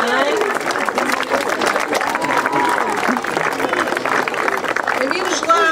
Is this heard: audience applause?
yes